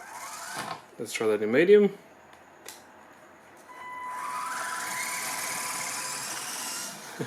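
A small Panda Hobby Tetra K1 1/18 RC crawler's electric motor whines steadily for several seconds with a high, thin tone that rises as it spins up, after someone speaks briefly.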